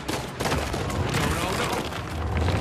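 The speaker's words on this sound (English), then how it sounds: "Somebody's shooting at me, but I can't see them." Sustained gunfire in the video game Uncharted 4, a dense, continuous barrage of shots and impacts filling the clip at close range with game sounds mixed beneath it.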